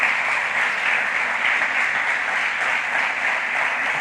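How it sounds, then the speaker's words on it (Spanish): A church congregation applauds in a dense, steady burst of clapping that holds at an even loudness throughout, with no voices standing out. "Dele un fuerte aplauso al Señor si lo cree."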